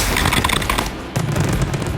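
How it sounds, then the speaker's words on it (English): Several large three-inch titanium salute shells burst during an aerial fireworks display, a rapid volley of sharp, loud booming cracks that pause briefly and then resume in another dense cluster. "We add another 304-inch titanium salutes."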